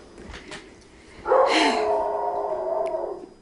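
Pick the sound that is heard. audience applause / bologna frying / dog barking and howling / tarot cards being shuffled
dog barking and howling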